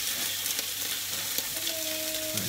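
Asda pulled Oumph vegan pulled pork frying in a pan, with steady close sizzling and faint crackles throughout and no talking.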